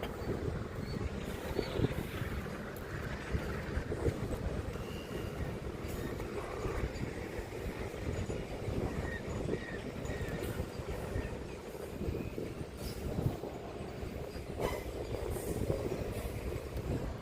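A train rumbles steadily past with clattering wheels and metallic rattling, a continuous heavy roll lasting throughout, no one speaking.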